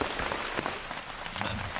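Rain falls in a Guyana forest, a dense patter of drops striking leaves and surfaces nearby, with scattered louder splashes over a steady wash, no talk.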